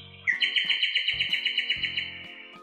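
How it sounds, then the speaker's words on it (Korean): A bluebird chirping as a story sound effect: a rapid, bright trill of repeated tweets, loud and close, standing alone over a soft musical background. "파랑새는 대답이라도 하듯 지저귀기 시작했어요."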